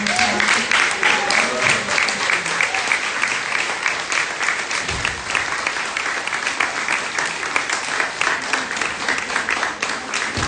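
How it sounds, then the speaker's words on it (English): An audience gives panelists a steady round of applause, with dense, continuous clapping that stays loud for about ten seconds and has no talking over it. "Let's give them a round of applause again."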